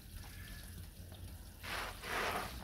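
Rainwater pours from a watering can into a fish tank of soil for composting worms, a faint trickle giving way to two louder splashing gushes near the end.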